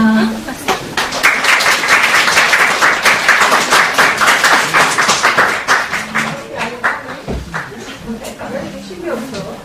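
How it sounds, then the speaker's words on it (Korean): Audience at a seminar on US exchange-student programs applauding as the director comes out to greet them, a dense burst of many hands clapping that swells, then thins into scattered claps, with speech mixed in. "우리 원장님 지금 와서 인사하실 때 큰 박수 부탁드립니다."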